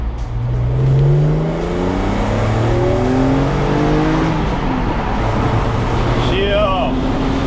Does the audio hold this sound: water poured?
no